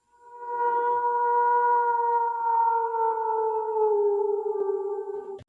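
A long, sustained wolf-like howl rises and slowly falls in pitch over about five seconds, loud and clear with no talk, used for a Halloween werewolf segment.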